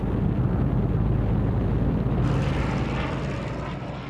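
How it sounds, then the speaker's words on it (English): WWII-era Allied aircraft fly overhead in France during the 1944 breakout, a steady, loud propeller-engine roar that stays constant throughout, with no one speaking. "They were remorselessly harried by Allied aircraft and artillery."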